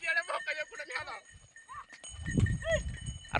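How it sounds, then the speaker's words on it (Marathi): Bullocks pulling carts at bullock cart race practice on an open ground, with a low rumbling rush of hooves and wheels swelling in the second half after someone talks excitedly. "काय बैलगाड्या काय भन्नाट पळत्या"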